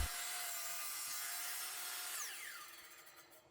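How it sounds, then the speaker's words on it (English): A miter saw cuts a plywood support block at 45 degrees, its loud, steady whining roar holding close through the cut before the blade winds down and the pitch falls away at the end. "I cut those at 45 degrees at the miter saw"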